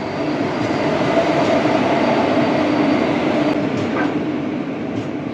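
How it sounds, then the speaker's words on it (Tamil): The Villupuram–Tiruvarur passenger train rolls past with a loud, continuous rumble of wheels and carriages, close and steady throughout, with faint rail squeals near the end. "விழுப்புரம் திருவாரூர் பேசஞ்சர் வண்டி."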